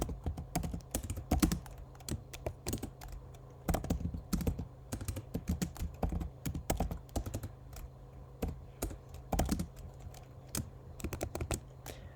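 Rapid clicking of keys on a computer keyboard while typing text in the Neovim editor, irregular bursts of close, crisp taps with short pauses, alone and fairly quiet.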